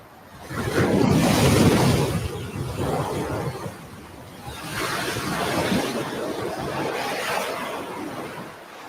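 Heavy ocean waves pound a beach in broad washing surges, loud and close, with a big crash early followed by steady rolling surf and some wind.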